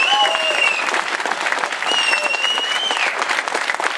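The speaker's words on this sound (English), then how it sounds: "I want a round of applause for all of these people." Crowd applause fills an outdoor political rally in Concord, New Hampshire, steady clapping throughout with whistles and cheers rising over it.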